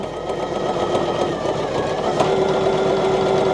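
A Poolin EO embroidery machine running at about 480 stitches per minute, sewing satin-stitch appliqué with a fast, steady mechanical chatter and whir, close and continuous, with a faint tone appearing partway through.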